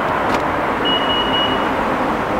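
A 2017 Honda HR-V crossover with keyless start idles with a steady, close engine hum, and a brief electronic beep sounds partway through.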